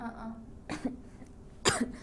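Two sharp coughs about a second apart, close and moderately loud, over a quiet background with a faint low hum.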